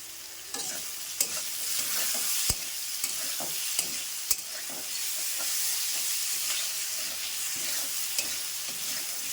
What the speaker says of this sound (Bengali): দেখো আমি কিন্তু ভালো করে প্রায় ভেজে নিয়েছি